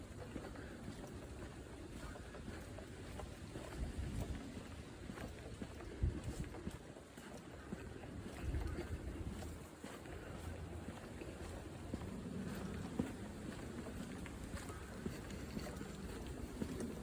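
Light wind buffets the microphone on an outdoor walk on a warm Florida afternoon, a soft, continuous rushing that stays faint throughout.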